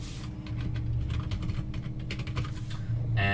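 Rapid clicking of fingers typing an email address on a computer keyboard, a steady run of close keystrokes over a low background hum, with no talking.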